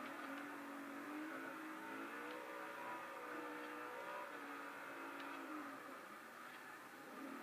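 A car drifting and spinning out in Forza Horizon, engine droning and revving with wavering pitch under steady tire noise, even and continuous, heard quietly in a game setting.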